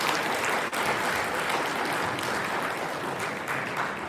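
Applause from an audience at a freestyle competition event, a continuous wash of clapping at moderate, even level from start to finish with no one speaking.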